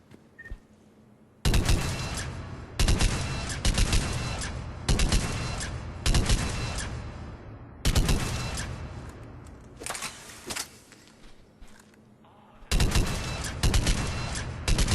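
Argus rifle gunfire in the video game Mass Effect 3, loud close bursts of several rapid shots each, repeated in separate volleys with short pauses and ringing decay between them.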